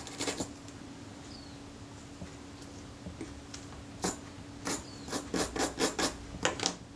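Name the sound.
wire brush scrubbing corrosion off a Retina IIa camera part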